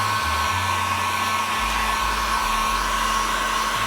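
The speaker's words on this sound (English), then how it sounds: "All right, so got my heat gun prepped." A heat gun blows hot air in a steady, loud, continuous whoosh with a constant motor hum, heard alone with no talking, while softening a part.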